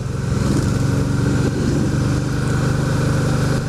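Big cruiser motorcycles on the Tail of the Dragon mountain road, their engines a loud, close, steady rumble that fills the whole short stretch.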